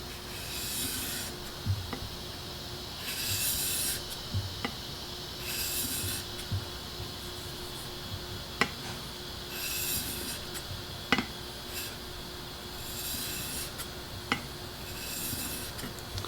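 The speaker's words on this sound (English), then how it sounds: "we're going to do the 6000 grit stone, and it's just the same thing." A steel blade rasps back and forth across a 6000 grit whetstone in steady, even strokes, a close, quiet scraping that repeats without any talk.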